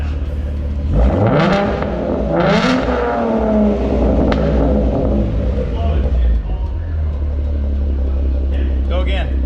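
A Ford Mustang V6 3.7L fitted with a Roush intake and exhaust revs loudly and close by, climbing sharply twice before settling into a deep, steady idle rumble.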